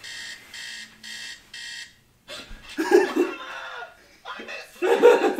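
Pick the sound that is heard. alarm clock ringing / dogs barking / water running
alarm clock ringing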